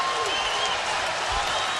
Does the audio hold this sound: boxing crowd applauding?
yes